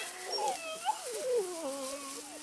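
Great Weimar puppies, seven weeks old, whimper and yip in a long run of high, wavering whines. The cries sound close and fairly loud and overlap one another, with no talk over them.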